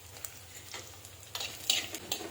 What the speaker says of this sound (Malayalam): കറിവേപ്പില ചേർത്ത് കൊടുത്ത് ഇഞ്ചിയും വെളുത്തുള്ളിയും ചേർത്ത് വഴറ്റിയെടുക്കാം.